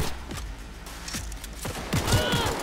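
Several sharp gunshots in the video game Cyberpunk 2077 crack in quick succession amid a busy, noisy background, with a burst of rapid fire near the end.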